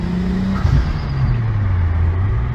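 A stock RB25DE engine in a 1998 Nissan Skyline R34 25GT revs up and down in quick blips, a deep steady engine drone shifting pitch, close and loud.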